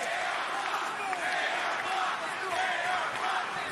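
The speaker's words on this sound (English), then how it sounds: "The crowd rallying behind AR Fox" A wrestling crowd at a Ring of Honor Death Before Dishonor show cheers and rallies behind AR Fox, a dense arena roar of many voices, steady and mid-distance, running continuously under faint commentary.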